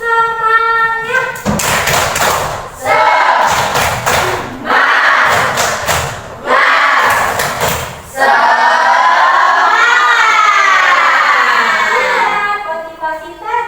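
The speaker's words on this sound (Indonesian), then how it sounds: "Tepuk semangat." A school class performs a rhythmic spirit clap cheer, with loud bursts of group clapping and shouting in a patterned beat separated by short pauses, then a long chanted group vocal at the end.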